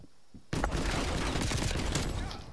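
A Mac-10 submachine gun in a video game fires one rapid, loud continuous burst that starts abruptly after a short quiet moment and runs for about two seconds.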